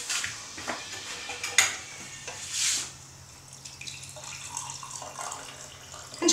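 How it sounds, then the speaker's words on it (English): Boiling water poured over fresh herbs in a teapot makes a splashing, trickling stream with a few brief louder gushes, heard up close and alone. "And then pour boiling water"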